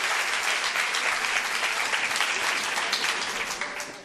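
Sustained audience applause after a Spanish improvised verse performance, dense and steady clapping from a crowd with a faint voice beneath, tapering slightly at the end.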